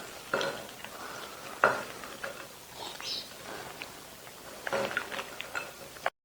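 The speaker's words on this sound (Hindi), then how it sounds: "इसको मिक्स करते हैं अच्छी तरह।" Macaroni salad is stirred with mayonnaise, salt, black pepper and olive oil in a bowl, giving soft, irregular scrapes and clinks of a utensil against the dish, fairly quiet and close, with no talking.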